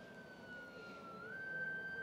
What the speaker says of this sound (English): do you hear their sirens?